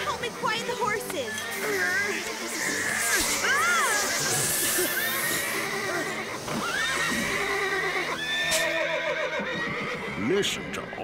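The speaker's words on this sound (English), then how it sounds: "Molly, you and Alma help me quiet the horses." Horses in a stable neigh and whinny repeatedly in an agitated uproar, with hooves stomping and clattering, while voices talk over the commotion throughout.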